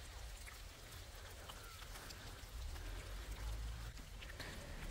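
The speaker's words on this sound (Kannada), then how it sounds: "ಮಳೆ ಬರ್ತಾ ಇದೆ." Steady rain falls on a road cutting through a tea plantation in Valparai, a dense, even hiss of drops that stays loud and close throughout, with a low rumble underneath.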